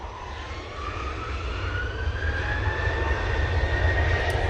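A Ryanair jet airliner begins its takeoff roll at Manchester Airport, a rising engine whine over a deep roar that grows steadily louder and nearer across a few seconds.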